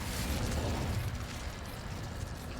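Incendio fire spell cast in the Hogwarts Legacy PC game, heard as a loud, rumbling burst of flame that whooshes strongly at first and then tails off into a sustained crackling roar.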